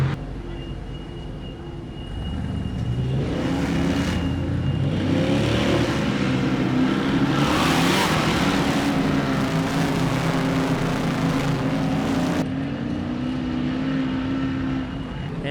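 Off-road race vehicles in a 4WP Battle in Bluegrass EMC class race climb MBRP Horsepower Hill, their engines building into a loud, sustained roar from a distance, swelling and holding before cutting off near the end, with no talk.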